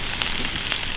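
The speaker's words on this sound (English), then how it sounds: "Onion oil drops down into the flame and picks up this awesome smell." Green onion oil dripping into a charcoal flame while corn grills, a steady close crackling sizzle with a few sharper pops, no voices.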